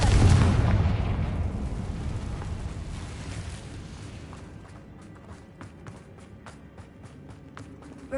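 Confringo spell explosion in the video game Hogwarts Legacy, a heavy booming blast at the start that rolls off into a long decaying rumble, followed by faint scattered ticks and footsteps.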